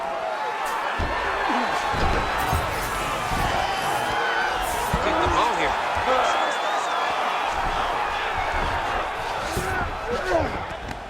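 Arena crowd in the UFC 5 video game reacting to a strike from the bottom fighter, a dense, loud, steady roar of cheering and murmuring with speech mixed in.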